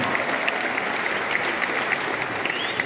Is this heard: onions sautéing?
no